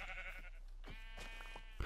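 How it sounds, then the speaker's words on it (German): A sheep in the video game Minecraft gives a couple of short, wavering bleats, fairly quiet and alone, ending with a brief click. "Ich habe noch ein Schaf gefunden."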